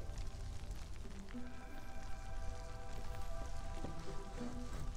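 Soft, continuous rain patters in the Against the Storm video game, low and even throughout, with faint sustained musical tones beneath it.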